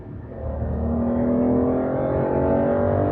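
A 6-liter V12 revs up after a downshift into third, a smooth, loud, rising engine tone that swells and holds steady, heard from the cabin on a road drive.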